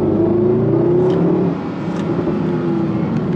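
A 2011 Mercedes SLS AMG Gullwing revs hard inside a tunnel, a loud, close, booming engine roar that climbs, eases off midway, then builds again with echoing reverberation and no talking.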